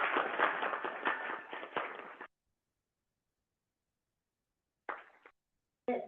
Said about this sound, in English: Let's give our December Decatur High graduates another round of applause.